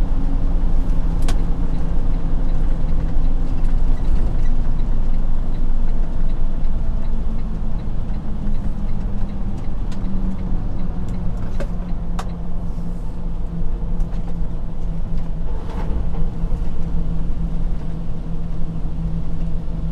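Car on a freeway easing off speed and taking an exit, with a steady low road rumble and engine drone throughout, the pitch sliding gradually downward as it slows, plus faint interior ticks.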